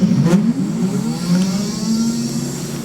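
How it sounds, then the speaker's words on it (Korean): An electric two-wheeler motor spins up a regenerative braking simulator's inertia load, giving a loud, steady whirring drone with a tone that rises gradually as it accelerates, with no voices. "이너시아가 구동을 하고 있는 것은 차량이 가속을 하고 있는 상태를 보여드리고 있는 것입니다"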